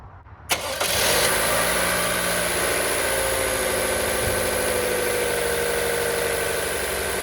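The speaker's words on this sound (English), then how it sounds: "I'll let the engine run for a few minutes" A 2023 Toyota RAV4 engine starts after an oil change, a sharp catch followed by a steady, loud, even idle that carries on close by with no voices.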